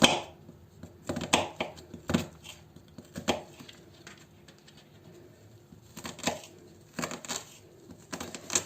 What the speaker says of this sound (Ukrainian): Далі беру цибульку крешу